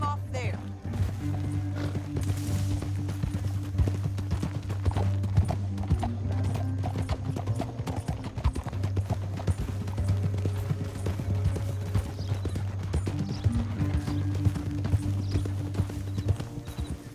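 In Red Dead Redemption 2, horses clip-clop along at a gallop in a rapid, steady rhythm, close and loud beneath a music bed, with voices talking over them.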